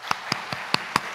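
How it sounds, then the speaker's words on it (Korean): A church congregation claps briefly during an afternoon service, heard as five distinct, evenly spaced claps, fairly faint and slightly distant. "우리 박수 한번 주시죠."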